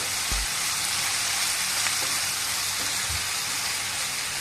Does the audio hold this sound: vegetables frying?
yes